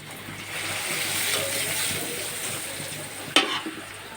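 Onions fry in a pan as a little turmeric is added, a continuous sizzle with stirring scrapes, ending in a sharp clack and a short splash-like burst near the end.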